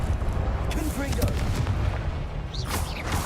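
A Confringo blasting spell in Hogwarts Legacy rumbles as a dense, loud low-frequency boom, with a voice speaking over it and a brief sharper burst near the end.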